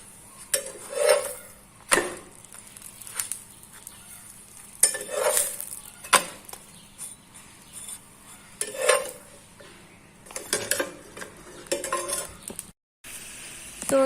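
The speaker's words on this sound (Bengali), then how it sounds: "তো আমার জন্য পরোটা ভাজতেছি।" A paratha fries in a pan with a soft sizzle, broken by intermittent scraping and clinking of a utensil against the pan at close range, with no speech.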